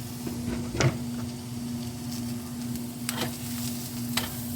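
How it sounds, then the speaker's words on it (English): Mushrooms fry in a pan with a constant sizzle and a steady hum underneath, broken by a few sharp clinks and scrapes, close and with no talking. "so mushrooms in the pan"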